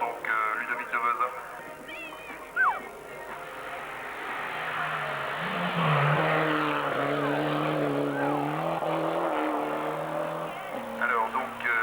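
A race car at a 1995 hill climb event in Hébécrevon passes with a droning engine note that rises and falls through gear changes, at moderate distance, while a commentator's voice runs over the engine.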